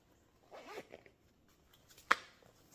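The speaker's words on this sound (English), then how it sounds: "And then you have a zipper compartment." A zipper slides open on a compartment of a chocolate-brown Tignanello handbag, giving one quick, close rasp after some faint handling rustle, with no one talking.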